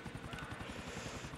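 Helicopter in the video game GTA IV: The Ballad of Gay Tony, a steady rotor thrum with rhythmic low beating that fills the whole clip and sits under some faint background voice.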